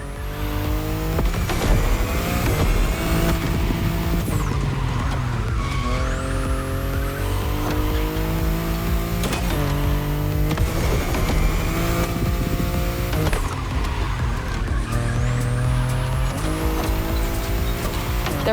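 A BMW i8 hybrid sports car driven hard in the video game The Crew Motorfest, its engine repeatedly revving up through gears with rising whines and shifts, tires squealing and skidding through corners, loud and continuous for almost twenty seconds.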